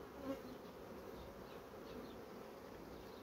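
A steady, dense hum of many honeybees buzzing around hive frames, continuous and close, with no voices.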